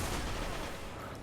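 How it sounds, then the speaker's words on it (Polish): Gunfire in the video game Destiny, a dense burst of rapid shots that runs without a break through a brief stretch, loud and noisy across the range. "Piękny strzał."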